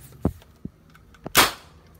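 A homemade PVC bolt-action toy gun clicks twice, then fires with one sharp, close pop, followed by a brief fading hiss.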